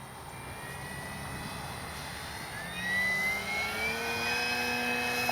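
A Flex RV-8 60E G2 electric RC model airplane flies overhead, its motor giving a thin steady whine that rises in pitch and swells louder as it passes.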